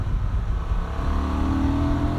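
A Honda Transalp 750 or Yamaha Tenere 700 motorcycle engine revs up steadily, its low drone rising in pitch and growing louder over a couple of seconds, close and continuous with no voices.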